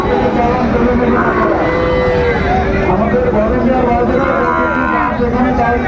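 Sahiwal bull calves and cattle low and moo amid a busy, noisy livestock market crowd in Dinajpur, with murmuring voices and general bustle throughout.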